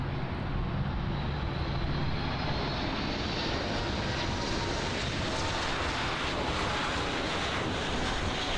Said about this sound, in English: here is the American Airlines Boeing 737 MAX 8 arriving in from San Francisco as Flight 581